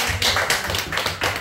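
A church congregation claps together during a Sunday afternoon sermon, a quick rhythmic run of many hands in steady pulses.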